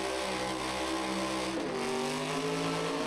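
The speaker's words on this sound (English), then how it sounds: "motor going down. She let off the throttle, didn't even get to the sand." Engine of a Pro 4x4 pulling truck at a pulling event, loud and close, its roar dropping away as the throttle is let off partway through, with the tone falling and thinning.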